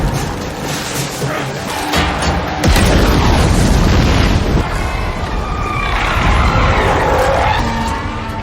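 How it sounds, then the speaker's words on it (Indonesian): A loud, booming explosive gunshot blast from a film action scene, heavy low rumble sustained for several seconds with cinematic debris and ambient noise layered underneath, no clear talk. "Levi harus turun tangan untuk membereskan masalah tersebut dan terpaksa melepaskan tembakan peledak untuk menyelesaikannya."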